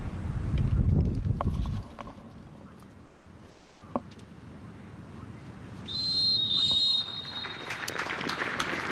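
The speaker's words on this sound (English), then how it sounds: "A shrill puff of the whistle from Philip Tignani" A referee's shrill whistle sounds in a sustained blast over crowd noise and scattered applause in a large open space, at a South African Premiership football match between Mamelodi Sundowns and Orlando Pirates.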